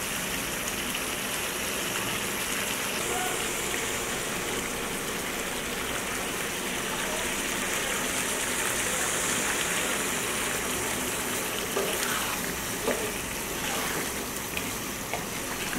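Sour yogurt hits hot sautéed masala in a pan, giving a steady, close sizzle with a dense frying hiss and faint crackles that carry on evenly, with no talk.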